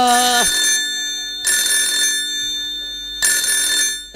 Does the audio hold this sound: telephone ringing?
yes